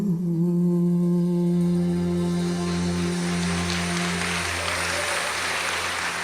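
Applause fills a church worship service, swelling from a fading sung note into a steady, loud, sustained clapping from a crowd that continues to the end.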